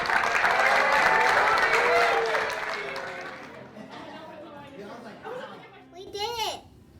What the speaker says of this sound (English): Give Walker and Hagenheim a big round of applause